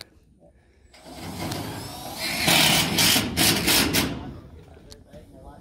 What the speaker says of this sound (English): Got my old drill. They got their drill.